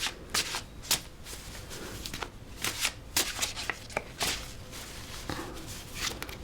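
Oracle cards are shuffled by hand close up, a series of quick riffling and flapping bursts in an irregular rhythm with short pauses between them.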